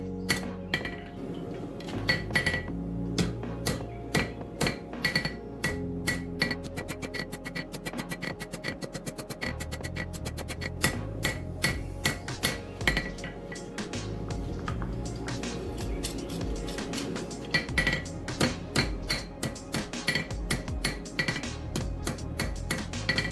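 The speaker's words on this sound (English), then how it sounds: "now with our rounding hammer, we're going to start forming in the tip for our leaf" Rounding hammer striking a hot steel leaf blank on an anvil, a long run of sharp metallic blows in quick steady rhythm, close and loud with ringing clinks throughout.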